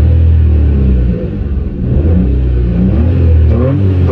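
A tiny car's engine revs hard up to about 6000 RPM, a loud close rumbling roar that dips briefly then climbs again with rising pitch, heard alone without talk.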